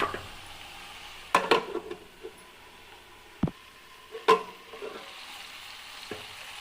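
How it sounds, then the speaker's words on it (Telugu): A spoon stirs brinjal and tomato curry in a pan, giving a few scattered scrapes and clinks over a faint steady sizzle, quiet and close. "బాగా కలిసేంత వరకు కలుపుకొని ఇవి కొద్దిగా మగ్గనివ్వాలి"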